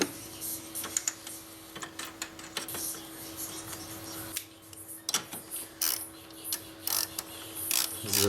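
A hand ratchet clicks in quick, uneven bursts while a 13 mm nut is tightened during spark plug work on a Jaguar S-Type R. The clicks are close and loud, with short pauses between runs.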